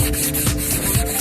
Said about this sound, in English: I think we can sand that out too